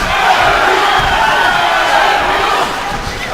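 A loud arena crowd roars and cheers continuously at a Glory 40 kickboxing fight, a dense wash of shouting voices that dips slightly near the end.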